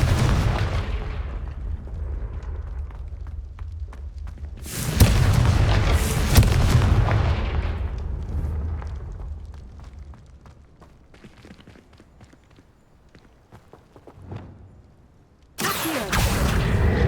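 Confringo fire spell blasts in the Hogwarts Legacy video game: loud booming bursts land at the start, mid-clip and again at the end, separated by quieter rumbling stretches of combat sound.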